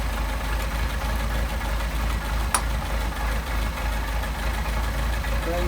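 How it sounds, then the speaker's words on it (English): A Mercedes 190SL engine idling at about 700 rpm on twin Solex carburetors, a steady low rumble close by and unbroken, with one brief sharp tick partway through. "Right now we're running an idle of about 700, which is about right."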